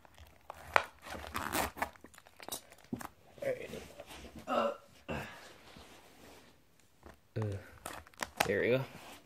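A Yu-Gi-Oh Invasion: Vengeance card box package is cut and torn open at close range, with crinkling plastic and cardboard bursting in short, uneven spurts as a person talks over and between them.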